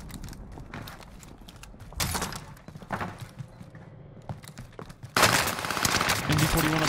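NZ-41 rifle fire in Warzone, a run of sharp broadband shots that grows louder and denser toward the end as the fight closes in.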